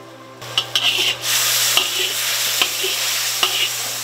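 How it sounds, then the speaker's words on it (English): Four eggs frying in a pan, with a steady close sizzle, a few sharp utensil clicks and scrapes against the pan, and occasional louder taps. "We've got four eggs. We're gonna throw that right in here. Let that start cooking."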